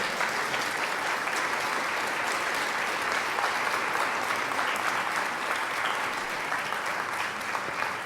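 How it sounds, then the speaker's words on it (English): A school board candidate forum audience in Grosse Pointe applauds steadily throughout, a dense, even wash of many hands clapping in a hall with no break. "Audience, let's have a round of applause for our candidates."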